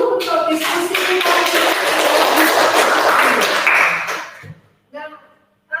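A class of students claps loudly and densely for a group presentation, then the applause tapers off quickly and a voice speaks briefly in the quiet room.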